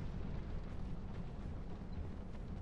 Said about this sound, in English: Who is firing the firebombs?